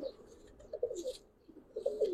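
Young male Giribaz pigeon giving soft low coos in a few short bursts, faint and close, with no talk.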